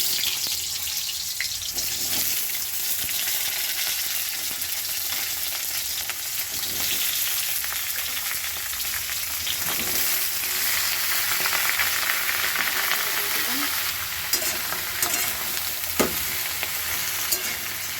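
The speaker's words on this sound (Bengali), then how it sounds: "একটু ভাজা ভাজা করে দেবো আনাজটা" Mixed winter vegetables, added after a tempering of five-spice and dried red chillies, sizzle loudly in a pan while being stirred, with steady frying hiss and occasional scraping, no talking.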